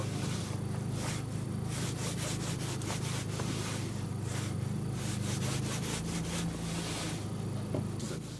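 A knife saws back and forth through smoked Texas-style brisket outdoors on a frozen lake, giving steady, close rasping strokes in a repeating rhythm over a low constant hum.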